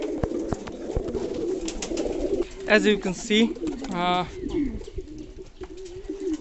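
King pigeons cooing close by at a small bathing pool, several throaty rolling coos in short bursts over a continuous low murmur of birds, with someone talking briefly.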